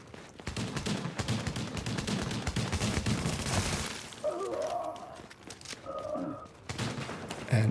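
Dense video-game gunfire from shotgun and pistol, a rapid rattling string of shots for several seconds, then sparser blasts mixed with game sounds.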